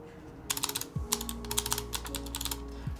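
Keys clack on a newly built Lunar II keyboard in quick irregular bursts of close, crisp strokes, with a low hum underneath.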